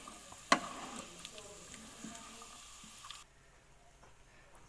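Dry fruits frying in a pan give a bright, continuous sizzle, with a sharp clatter near the start, before the sound cuts out abruptly after about three seconds, leaving a quiet room.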